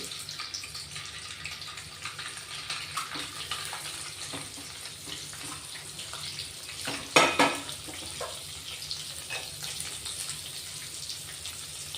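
Eggs frying in a pan for egg masala make a soft continuous sizzle and crackle, close and fairly quiet, with one brief sharper burst midway and no talking.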